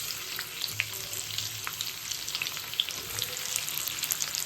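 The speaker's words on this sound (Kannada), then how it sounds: "ಸಾಫ್ಟ್ ಆಗೋವರೆಗೂ ಫ್ರೈ ಮಾಡ್ಕೊಳ್ಳೋಣ ಸಾಕು." Sliced onions frying in a pan for palak raita, a faint steady sizzle with occasional small crackles and a light stir, heard alone without talk.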